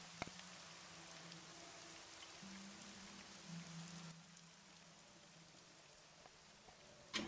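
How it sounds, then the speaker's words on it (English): A soft rain sound effect plays quietly in the background of a tabletop Dungeons & Dragons session, a steady hiss of falling drops with a faint low hum and an occasional click, no one talking. "I found a rain effect."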